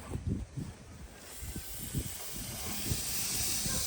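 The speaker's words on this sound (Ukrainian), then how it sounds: "ми беремо рульки і ставимо на гриль" Pork knuckles set on a hot grill give off a steady hissing sizzle that swells over several seconds, with soft knocks and handling thuds near the start.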